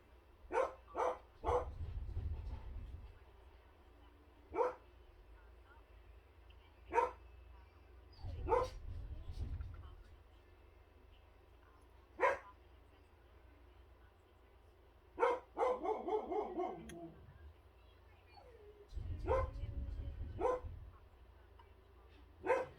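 Dogs bark in short bursts from inside a bedroom, several sharp yaps spaced irregularly, fairly close, with some excited whining between them.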